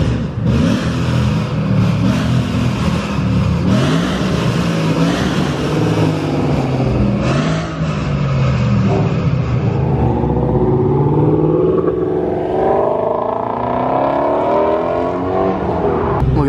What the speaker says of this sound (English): You can hear that flat plane crank.